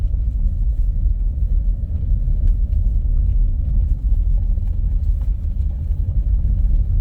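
A car rolls along a rocky woodland road toward an old church, giving a continuous loud low rumble of engine and tires, with faint knocks from the rough surface and no talking.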